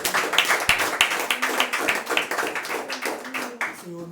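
A church congregation clapping in a steady, even rhythm during worship, close and fairly loud, with voices singing or speaking along under the claps before they fade out at the end.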